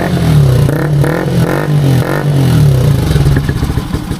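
A Bajaj Rouser NS 125 motorcycle fitted with a year-old Akrapovic exhaust and silencer revs hard several times in close succession, each throttle blip rising and falling over a rough, clattering idle.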